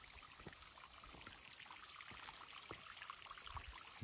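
Water at Twin Falls in the Ozarks, two separate streams spilling and splashing, gives a steady, close rush of falling water with small patters throughout.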